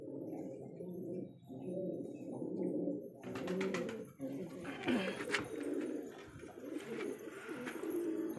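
Inside a loft, pigeons coo continuously while a mother pigeon feeds her chick beak to beak, with soft rustling and fluttering, and bursts of wing flapping in the middle, close and without talk.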